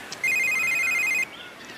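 A telephone rings with one steady electronic tone lasting about a second, loud and close, with a quiet background before and after.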